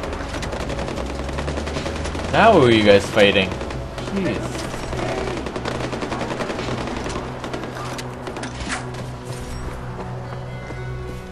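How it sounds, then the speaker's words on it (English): Sporadic automatic gunfire in the video game Far Cry 4, a loud burst early then scattered distant shots continuing beneath a player talking. "There's more gunfire."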